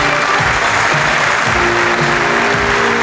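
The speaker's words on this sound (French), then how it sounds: "Lilian Calvejane, Darouya Krener et Julien Vous pouvez les applaudir très très fort encore" A large crowd at the Europcar cycling team presentation in the Vendéspace arena claps loudly and steadily, a dense wash of applause with a few voices mixed in.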